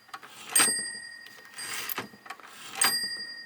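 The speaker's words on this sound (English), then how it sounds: "let's see if we can hear it. It's got the little bell." A small bell on an LC Smith 11 typewriter rings three times, bright sustained dings spaced apart, close and clear in a quiet room with faint mechanical handling between the rings.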